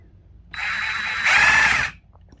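A repaired reciprocating saw is test run after a broken part was fixed. It buzzes on for about a second and a half, surges louder toward the end, then cuts off abruptly with no talk.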